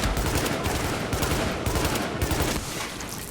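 Dense, continuous gunfire in the video game The Division, with shotgun blasts blended into rapid overlapping shots that fill the scene steadily and loudly throughout.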